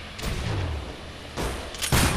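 Missile explosions and gunfire in the PC action game Syndicate, a rumbling burst that drops off and then returns as two sharp, loud blasts near the end.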